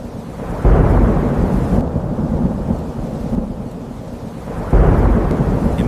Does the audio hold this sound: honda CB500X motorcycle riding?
no